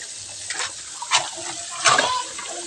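Water rushes and splashes steadily from a leaking, rusted pipe nearby while someone talks over it in short bursts.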